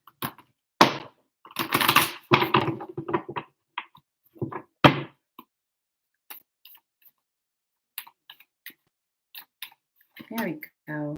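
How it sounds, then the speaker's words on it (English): Quick, papery riffling bursts of cards being shuffled, a few short rounds close by, with brief talk and scattered soft taps between. "Come on, cards. Let me just shuffle really quick."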